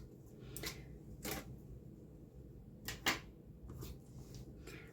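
Scissors cutting through paper for a small scrapbook page, a few soft, quiet snips spaced apart over faint background hiss.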